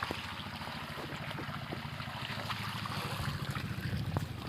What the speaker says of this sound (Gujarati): અને ભાઈ રિક્સ તો પાણી હાલે છે ધીરે ધીરે.